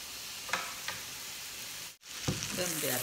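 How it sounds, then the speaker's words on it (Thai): A pot of water for cooking mushrooms comes up to a boil, giving a steady close hiss with a few soft bubbling pops and a brief clink. "เริ่มเดือดแล้ว"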